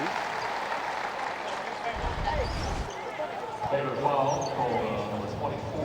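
A basketball arena crowd at a Baylor versus West Virginia Big 12 men's game roars and cheers, swelling louder partway through, with a commentator talking over it.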